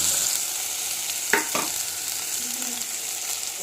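Potato pieces tossed into a hot pan of ginger-garlic paste for aloo kurma sizzle steadily, with a couple of quick scraping stirs partway through.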